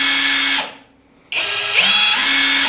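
PULITUO cordless 1/2-inch square drive impact wrench runs at its high speed setting, a loud steady whine that briefly drops away, then spins back up and holds, close and alone.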